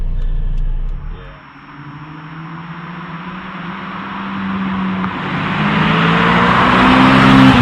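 A Lotus Exige sports car engine drops briefly, then revs up steadily and grows louder and higher in pitch, ending in a loud, strained roar close by.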